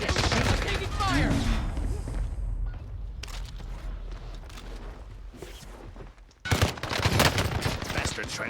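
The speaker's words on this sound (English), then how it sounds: "Bastard trying to shoot me" Rapid automatic gunfire rattles in bursts during a Warzone match, with a brief lull before another loud volley erupts near the end, under faint game voices.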